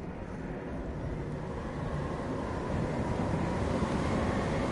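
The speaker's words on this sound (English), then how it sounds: "windy, windy." A steady wind rushes across the desert of the video game Journey, a continuous broad whoosh that swells slightly toward the end, with no talk over it.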